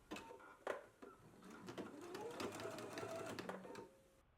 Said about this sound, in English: I'm going to go ahead and stitch this one now at 1/4 inch seam allowance